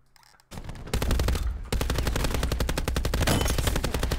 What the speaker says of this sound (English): I fired like 36 rounds at that guy and didn't hit him once